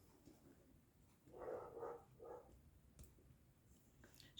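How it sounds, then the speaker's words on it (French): Dogs barking in the distance during a wild boar hunt, three faint muffled barks in quick succession, soft and far off against quiet room background. "on entend des chiens. Il y a une battue au sanglier."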